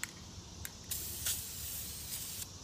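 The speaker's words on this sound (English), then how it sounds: "Okay, so I'm just applying my spray paint here." Short bursts of spray paint hiss from an aerosol can in several separate puffs, close and fairly quiet, with a soft background hush between them.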